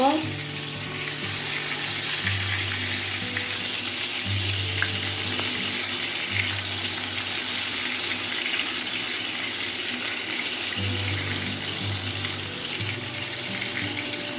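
Kachki fish wrapped in gourd leaves frying in a pan, a steady close sizzle with a faint low hum underneath and no talking.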